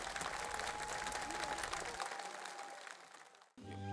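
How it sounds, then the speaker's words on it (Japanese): Applause from a festival crowd at a Shinto shrine, following a taiko drum dance by children, dense and steady before tapering and cutting off abruptly, with a sustained tone underneath. "割れんばかりの拍手を受け"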